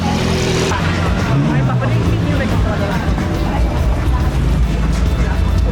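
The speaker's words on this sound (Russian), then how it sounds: "У человека на глушитель не хватает на Феррари, ребята." A Mansory-tuned Ferrari with no muffler roars past on a busy Côte d'Azur waterfront, its loud raw exhaust blaring continuously over crowd chatter and nearby voices.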